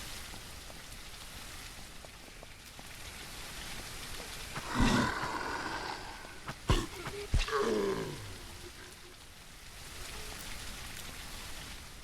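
Steady rain falling in the zombie survival video game Surroundead, a constant hiss throughout with a few brief louder thuds and effects in the middle, no talking.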